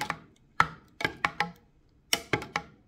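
Spoon stirring a chili sauce mixed with mayonnaise and oil in a bowl, heard as several close, sharp scraping knocks in an irregular rhythm with quiet gaps between.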